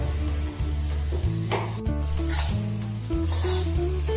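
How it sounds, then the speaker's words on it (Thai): Vegetarian sweet pork made from dried soy protein and sugar is stir-fried in a pan, giving a continuous low sizzle and scraping under prominent background music. "เดี๋ยวเราจะผัดไปเรื่อยๆ จนกว่า น้ำตาลเราจะงวดนะครับ"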